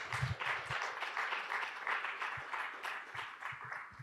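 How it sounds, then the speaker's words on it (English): Audience applause at a RIPE NCC Days conference in Chisinau, a steady wash of clapping from a modest crowd with a few louder nearby claps standing out, holding fairly even for about four seconds. "So please, a round of applause for yourselves as well."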